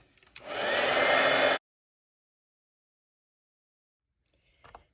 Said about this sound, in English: now we can bring in our heat tool